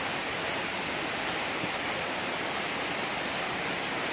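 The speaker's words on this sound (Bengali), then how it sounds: "এই যে বৃষ্টি, এই যে বৃষ্টি করতেছে" Rain falls steadily and heavily, a dense, uniform hiss with no breaks and no other sounds standing out over the short stretch.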